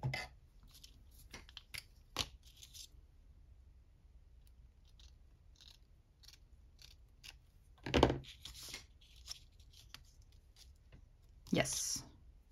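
Scissors cutting paper for a grid journal page, heard as a few distinct snips and rustles, two of them louder and crisper, spread across a quiet room with soft handling noises between.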